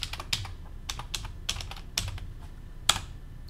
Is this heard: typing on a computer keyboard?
yes